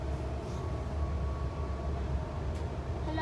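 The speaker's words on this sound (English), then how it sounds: "You've seen a train." A train on the Ascot to Guildford line rumbles past nearby, a continuous low mechanical roar with a faint tonal hum and steady loudness throughout.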